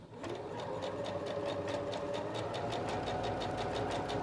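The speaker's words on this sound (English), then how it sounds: "and I'm gonna start sewing." Singer Professional 9100 sewing machine stitching along a fold of fabric, a steady fast mechanical whirring with evenly spaced needle clicks, close and continuous, with no talk.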